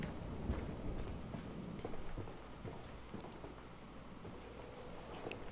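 Horse hooves clip-clop faintly in Battlefield 1 gameplay, a quick irregular patter of soft hoofbeats buried under dense, noisy game ambience.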